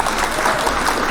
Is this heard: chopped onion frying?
no